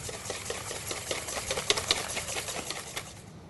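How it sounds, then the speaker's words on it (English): A whisk beats lemon juice and vanilla into cake batter for a blueberry upside-down cake, making rapid, close, rhythmic clicking and tapping strokes against the bowl that keep up steadily for a few seconds. "Whisk to incorporate."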